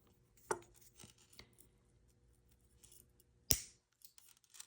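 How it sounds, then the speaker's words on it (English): Cutters snip through a small metal necklace chain link, a couple of crisp, sharp clicks close by in an otherwise quiet room, with the louder final snap standing alone. "So we're going to cut that link."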